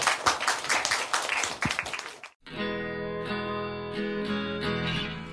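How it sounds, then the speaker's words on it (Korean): An audience applauds at a public broadcast in a bookshop, with dense, lively clapping for about two seconds. The clapping stops abruptly and steady music takes over. "여러분 큰 박수 부탁드립니다."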